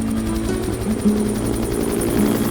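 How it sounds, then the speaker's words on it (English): Helicopter in the Arctic, flying to a remote science research base on a glacier: a steady low rotor drone with harmonic hum, continuous and fairly loud, with no speech. "We were dropped by helicopter on one of the world's most remote science research bases"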